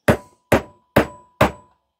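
Four evenly spaced sharp knocks as a case pack knife is struck and used like a chisel to pry open a glued Dyson V8 charger case, each blow loud and close with a quick decay.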